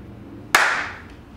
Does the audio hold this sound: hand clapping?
yes